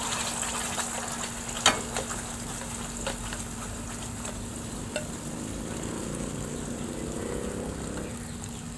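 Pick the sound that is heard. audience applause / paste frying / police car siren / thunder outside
paste frying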